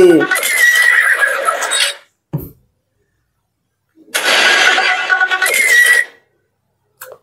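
Two loud, close horse whinnies ring out, separated by a stretch of silence.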